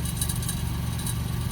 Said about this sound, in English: I know I got the engine running